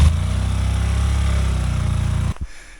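Motorcycle straining up a steep mountain road above 3100 m, engine laboring with a low, rough, pulsing drone held steady and loud for over two seconds before cutting off abruptly, with no speech.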